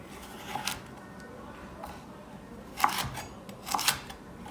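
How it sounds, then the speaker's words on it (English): Knife slicing vegetables for a sofrito, a few sharp cuts against a board spaced about a second apart over a steady background hiss, near and without talk. "if you cut it into slices and then into strips"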